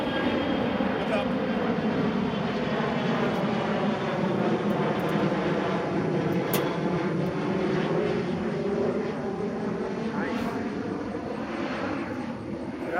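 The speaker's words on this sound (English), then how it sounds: "the plane is passing up there" A propeller airplane passes overhead outdoors, its steady loud engine drone filling the whole stretch with a slow swell and fade, while someone talks over it.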